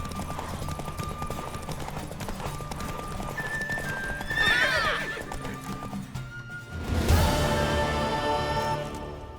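Rhythmic hoofbeats of a galloping horse in The Witcher 3: Wild Hunt, with two loud whinnying neighs rising over the clatter, close and energetic.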